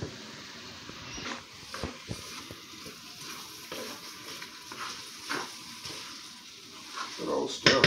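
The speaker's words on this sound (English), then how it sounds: "Good old stir fry." Stir fry sizzling in a pan, a steady soft hiss with occasional scraping and clatter as the food is stirred, fairly quiet and close with no talking.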